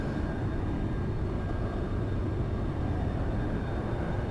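A jet airplane's engine roars steadily through a supersonic takeoff in the flight simulator X-Plane 11, a loud continuous broadband rumble with no talking.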